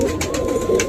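Pigeon cooing, a female pigeon perched at a railing, with a few soft low coos repeating over a steady background hum.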